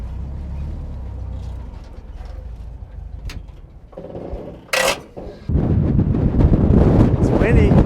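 Strong wind gusts in the Mojave Desert buffet the microphone with rumbling bursts. A sharp crack is heard midway, then heavy, roaring gusts grow louder toward the end, with a faint voice under the noise.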